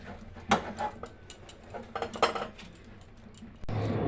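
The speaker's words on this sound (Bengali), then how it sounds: "আমি ডোটা ভালো করে বেকিং পাউডারের সঙ্গে মিক্স করে নিয়েছি" Dough mixed with baking powder in a bowl, scattered clinks and scraping knocks of a utensil against the bowl, irregular and close, ending with a rougher rubbing sound.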